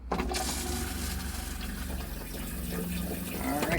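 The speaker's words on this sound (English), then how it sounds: "And now let's do the toilet." A Coachmen Beyond RV toilet flushes during winterizing, a steady rush of water running loud and close from start to finish.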